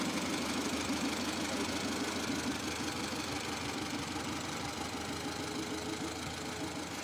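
An old Farmall A tractor engine chugs at low speed with a steady, rapid knocking putter. It is close and continuous throughout, with no speech over it.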